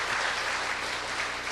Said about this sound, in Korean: 스태프들에게 한 박수 보내주시죠.